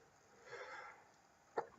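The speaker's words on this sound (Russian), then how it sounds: "Я говорю, тихо, стараюсь, но чихаю громко." A person sneezes loudly right at the end, after a soft sharp intake of breath; quiet breathy murmuring comes earlier, then near silence before the close, sudden burst.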